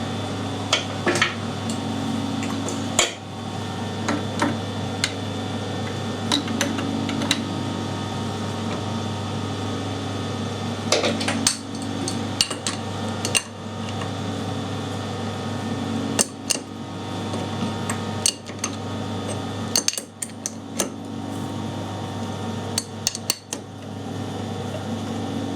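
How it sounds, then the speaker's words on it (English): A 3/8 threading die cuts threads on a metal lathe for a ball turner part, with a steady motor hum and fan-like drone under intermittent metallic clicks and scrapes as the die bites, no talking. "It seems to be cutting the threads alright."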